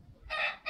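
A white Aseel rooster crowing close by, a brief loud strained call that cuts off and starts again, with no talk over it.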